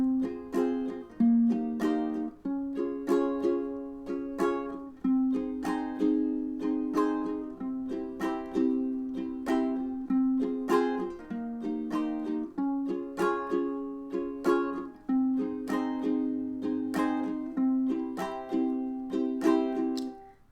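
Ukulele strums a bright, bouncy chord progression in a steady syncopated island strum of quick down and up strokes, played alone and close.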